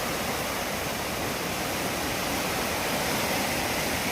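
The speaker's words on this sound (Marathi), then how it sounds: "ते बघ वरच्या दगडीवरनं पाणी जात आहे" Floodwater from a swollen Konkan river rushes over rocks in a dense, loud, unbroken roar, heard close with no voices.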